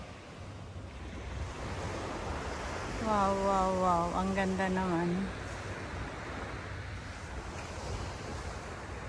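Sea waves wash steadily onto the beach at Cheung Chau, a broad continuous roar with wind buffeting the microphone, while a woman exclaims partway through.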